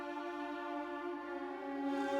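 Live strings hold a smooth sustained chord, bowed tones layered and steady, quiet and unbroken through a short excerpt with no voices.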